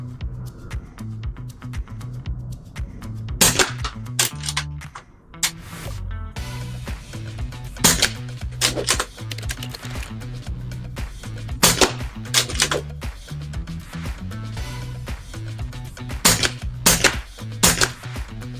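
Air gun firing pellets at a fresh target: a string of sharp, dry cracks at irregular intervals, roughly a dozen shots, set against steady background music.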